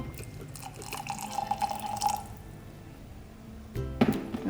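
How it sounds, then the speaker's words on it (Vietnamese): Boiling water is poured over peaches and tea bags, a short trickling, rising pour followed by a pause, then a brief splash and clink near the end. "Giờ mình sẽ cho nước sôi vào."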